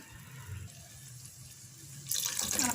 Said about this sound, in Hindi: आधी प्याली इसमें मैं पानी की डाल दूँगी